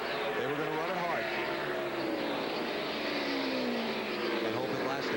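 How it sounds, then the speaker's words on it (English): Michael Waltrip's NASCAR Cup race car running flat out on the rev limiter into turn 3 at Phoenix Raceway in 2003, a loud continuous engine drone that sweeps up and down in pitch. Commentators talk over it throughout. "Boy, Michael all over the limiter. Rev limiter going into turn 3."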